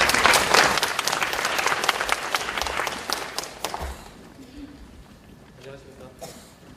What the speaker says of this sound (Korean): 큰 박수로 부탁 많이 해주시기 바랍니다.